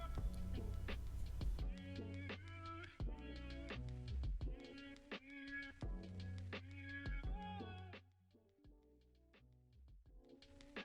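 A Cricut Maker 3 cutting machine cuts vinyl with a quiet, close run of quick clicks and short motor whirs in a busy, stop-start rhythm that thins out near the end.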